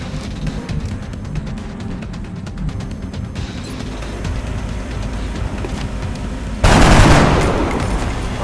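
Gunfire in the video game XCOM: a sustained rattle of rapid shots under a low rumble, close and loud, swelling into a heavy burst of noise near the end.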